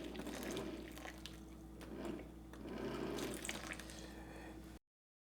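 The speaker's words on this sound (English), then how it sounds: "So we're gonna pour some hot water to let it soak" Hot water pours steadily over a tamarind block in a kitchen, a close, continuous splashing stream that swells slightly midway and then stops abruptly.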